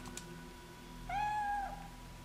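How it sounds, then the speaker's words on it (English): A cat meows once in the Fatal Frame 3 video game, a single drawn-out, rising-then-falling cry about a second long that stands clear over a quiet, humming game ambience. "Cat staring from wall."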